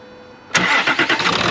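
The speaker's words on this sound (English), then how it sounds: "Right, so I have got the engine running" A Land Rover Discovery 3 engine catches abruptly and runs on at idle with a steady, fairly close mechanical hum and a slight pulse.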